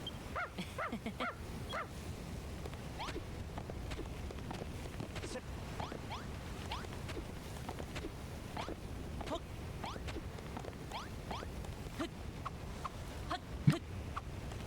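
A dog gives short yips and soft whimpering whines in a scattered, uneven rhythm. The sounds are fairly close and moderate in level, with faint rustling and a brief sharp knock near the end.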